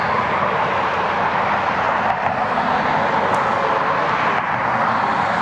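A Delta airliner inbound from Atlanta to Cleveland Hopkins roars loudly and steadily with broadband jet engine noise, unbroken for the whole stretch.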